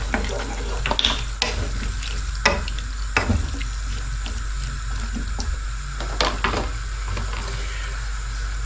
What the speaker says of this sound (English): we are now going to put in our potatoes, stir those in, put your lamb stock in